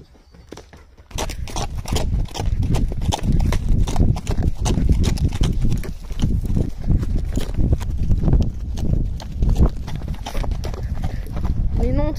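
Hooves of a club horse clip-clop during an outdoor ride, a loud, close, rapid run of hoofbeats that starts after a second of quiet and keeps going for about eleven seconds.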